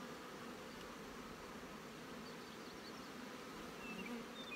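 Honey bees swarm and buzz around an open hive during a cold-weather inspection, a steady, dense drone filling the whole stretch at moderate distance with no voices.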